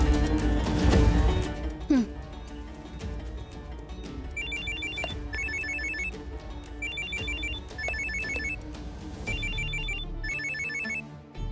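A phone call's ringing tone repeats in short, evenly spaced bursts, each a quick pair of electronic trills, over a low background hum after a brief louder stretch at the start.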